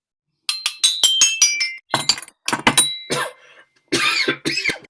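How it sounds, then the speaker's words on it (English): Several sharp coughs in quick bursts, close and loud, with short pauses between them and a few clinking transients mixed in. "No, sorry, I'm coughing."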